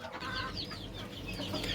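Chickens in a coop clucking softly while drinking vitamin-enriched water, a few low, close murmuring clucks and chirps over a quiet background without speech.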